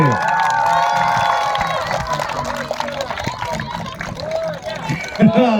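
A lively crowd cheers and applauds at a youth football team award ceremony, with children shouting and whooping close by and voices talking throughout.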